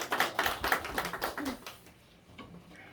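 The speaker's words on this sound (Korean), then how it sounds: "우리 하나님께 영광의 박수를 드립니다." Congregation clapping during a Sunday afternoon church service, a quick run of rhythmic, fairly close handclaps for about a second and a half before fading into quiet room sound.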